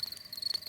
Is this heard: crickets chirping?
yes